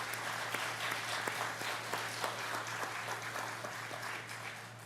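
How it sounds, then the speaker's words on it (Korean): Church congregation applauding the worship team during a Wednesday service, a steady burst of clapping lasting several seconds, close and fairly even, fading slightly at the end. "팀원들에게 한번 여러분 감사의 박수 보내주시기 바랍니다."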